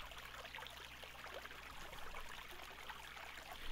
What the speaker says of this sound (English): I can hear the slushing of the nearby creek